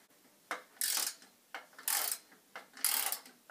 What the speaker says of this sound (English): Next, you have to screw the tailgate wheels on with two screws.